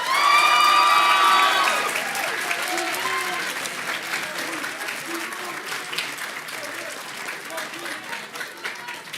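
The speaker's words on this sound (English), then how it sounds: "One more round of applause for" Audience applause at a physical therapy class of 2025 graduation ceremony, starting as a loud burst with shouts and whoops over the clapping, then settling into steady dense clapping that slowly fades.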